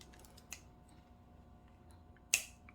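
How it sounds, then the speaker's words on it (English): Small scissors snip a crochet yarn tail close up, with a faint clip followed by one sharp, distinct cut in an otherwise quiet room. "I would take care of your tail and snip that off"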